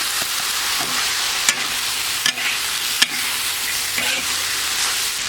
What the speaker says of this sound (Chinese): 这个炒香以后呢，我们酸豆角、酸辣椒一起下，